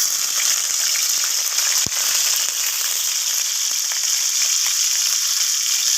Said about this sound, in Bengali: তো চিংড়ি মাছগুলোকে একটু ভেজে নেব